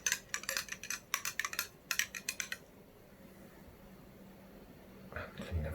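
A spoon stirring Penderyn Madeira Finish whisky drinks mixed with Coke in glasses, giving quick bright clinks against the glass in a close, quiet room. The clinking stops, then a few soft handling sounds follow.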